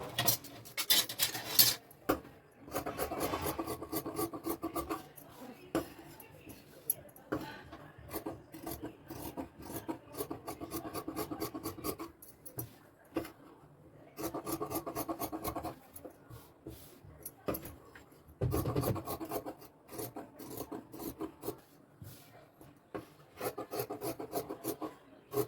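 Scissors slicing through blouse fabric along a marked line, a steady rasping snip repeated in bursts with short pauses, close and fairly faint, no talking.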